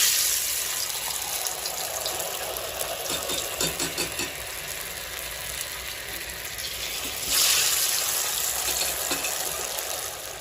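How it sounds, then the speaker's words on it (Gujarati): Continuous hiss and bubbling of potato chips deep-frying in oil, close up, with a brief burst of louder sizzling partway through and some rattling clatter. "હવે મેં આ બટેકાની ચિપ્સને તળી લીધેલી છે"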